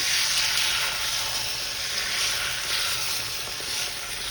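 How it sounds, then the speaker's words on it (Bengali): Beaten eggs hit hot white oil in a kadai, giving a loud, dense, continuous hiss of frying that stays close and even throughout, with no voices. "তেলটা গরম হয়ে গেছে ডিমগুলো দিয়ে দিচ্ছি"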